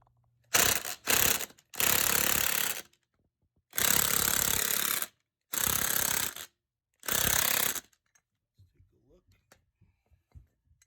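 An impact gun pulls a wheel stud into a Honda Civic hub during a 5 lug conversion. It fires in six loud rattling bursts of about a second each with short pauses between them, then brief quiet handling noises.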